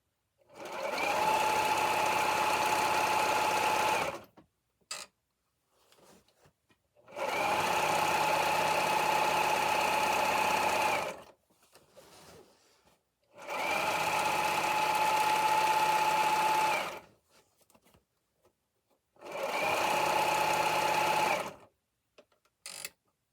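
A sewing machine stitches a fabric apron in four long, loud, steady bursts of fast mechanical whirring, each several seconds long, separated by short pauses with faint handling sounds.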